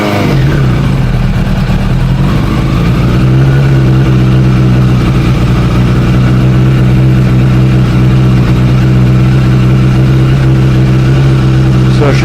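A Suzuki Bandit 600 motorcycle with a petrol leak, just started after using the choke, runs loud and close at a steady, throbbing idle with a slight rise early on, continuous throughout.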